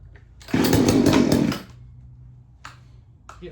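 A chainsaw with a carburetor needing adjustment idles, then revs hard for about a second before dropping back to a rough idle, with two short blips of throttle near the end, loud and close.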